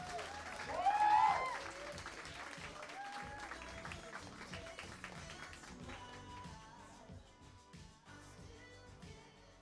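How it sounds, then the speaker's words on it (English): A comedy club audience applauds a stand-up comedian taking the stage at a Comedy Central show, the clapping swelling loudly near the start and then fading beneath walk-on music and a voice. "Big round of applause."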